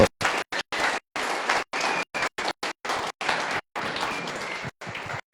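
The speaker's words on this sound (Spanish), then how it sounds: "Un aplauso al Señor." A church congregation applauds after a sermon, bursts of clapping in a choppy, stuttering run of short blocks, moderately loud and close.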